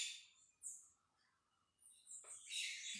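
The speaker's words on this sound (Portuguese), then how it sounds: "Eu queria que vocês estivessem vendo aqui na minha varanda agora 2 maritacas e um passarinho azul da cor do céu" Maritaca parakeets and a small sky-blue bird calling from a home balcony, with several high, shrill chirps and squawks in short bursts, fairly close and clear over a quiet background.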